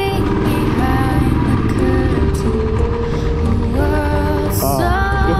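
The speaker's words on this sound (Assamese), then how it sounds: "পাহাৰৰ ওপৰত মোৰ বাইকটো উঠি যাব একদম" A motorbike engine labors continuously as the bike climbs a steep hill road, its pitch rising and falling with throttle and climbing higher near the end, loud and close throughout.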